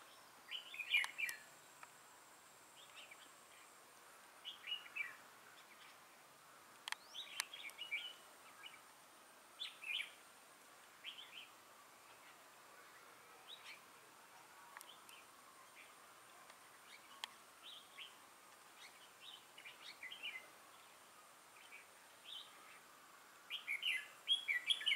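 Red-whiskered bulbuls calling near a bird trap, a series of short bright chirps and tweets repeating irregularly throughout, moderately close over faint insect buzz.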